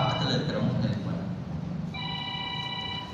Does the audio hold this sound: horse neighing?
no